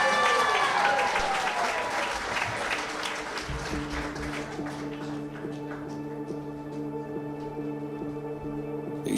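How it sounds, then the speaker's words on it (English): Audience applause at a community variety show with circus aerial silks, a crowd clapping steadily for several seconds before music with sustained tones enters and the clapping fades under it. "Give Willow a big round of applause."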